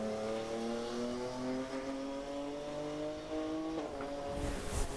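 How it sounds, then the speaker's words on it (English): A BMW rally car at the Ulster Rally revs hard through the gears as it approaches and sweeps past, its engine note climbing in a steady rising whine that fills the whole stretch. "Listen to the BMW."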